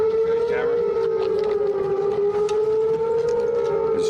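A mortar attack warning siren at a military base in Afghanistan sounds a loud, steady electronic wail that holds a single sustained pitch throughout, with faint noise beneath.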